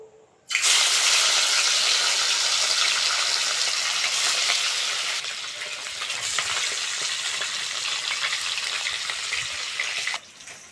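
Fish frying in hot oil for a Bengali Lilentika fish curry with aubergine, potato and green tomato, a loud, steady, close sizzle that starts suddenly, holds for about ten seconds, then cuts off.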